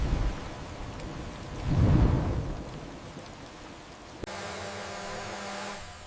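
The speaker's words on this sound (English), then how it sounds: "Rain transforms into horizontal ropes of water." Rain hisses steadily while a low thunder rumble swells and fades, followed by a sharp crack and a denser downpour.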